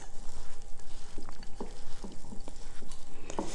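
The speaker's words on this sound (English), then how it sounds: "You mix all that butter, the brown sugar, and the pecans together and the flour. Mix it all together." Spoon stirring a sweet potato casserole topping of butter, brown sugar, pecans and flour in a bowl, with close, steady scraping and soft patter plus a few sharper clicks near the end, no talking.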